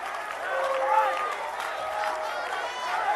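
A live audience breaks into raucous applause, a dense, steady wash of clapping mixed with crowd noise and voices.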